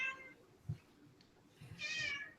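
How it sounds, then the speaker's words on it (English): A house cat meows a few times in a quiet room, short mews rising over a faint background hum. "there's the obligatory cat cameo"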